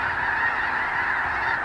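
Large flock of geese honking continuously as they fly in to Bellshill Lake at dusk, a dense, steady chorus of overlapping calls with no talking.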